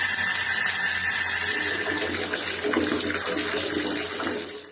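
Dirty brown water gushes steadily from a household tap in Dnipro, a loud, hissing, continuous stream that fades out at the end, with no talking.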